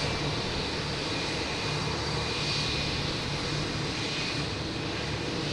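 An airliner's jet engines roar at Boston Logan Airport, a steady, broad, loud drone that holds for several seconds with no talk.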